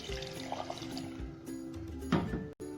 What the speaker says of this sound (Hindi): ये कप के हिसाब से मैंने पानी डाल देना है इसमें